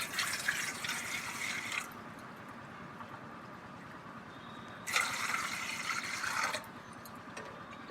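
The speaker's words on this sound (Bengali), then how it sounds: "এবার আমি আলুগুলোকে ভালো করে ধুয়ে নিচ্ছি" Fresh farm potatoes are washed in water, with two bursts of splashing and running water separated by a quieter stretch of low background hiss.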